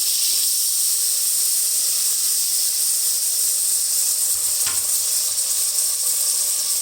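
Tomato fries in hot oil and butter with a piece of cinnamon, a clove and a bay leaf for pulao, giving a loud, unbroken hissing sizzle close by with one brief clatter.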